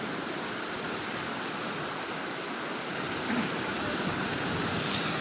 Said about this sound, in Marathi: लाटा मारतात ना वरती